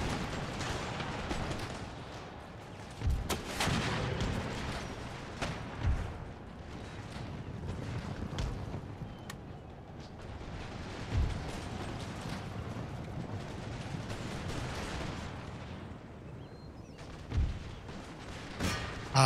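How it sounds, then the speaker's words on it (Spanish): Musket volleys and artillery fire in the strategy game Empire Total War, with repeated sharp cracks and booms punctuating a dense, continuous battle roar at moderate loudness and no talk. "Abriendo fuego aquí."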